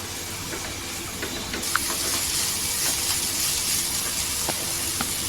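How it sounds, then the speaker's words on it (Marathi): Spices sizzling in hot oil for a dried shrimp chutney: a steady frying hiss with scattered small pops and crackles throughout, no talking. "पूर्णपणे मसाले परतून घ्यायचं तेलावर"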